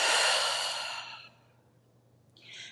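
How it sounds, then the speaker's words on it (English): A single long, breathy yoga exhale, loud and close, trails off into near silence before a faint rustle at the end. "Big inhale through the nose. Loud, audible exhale, let it out."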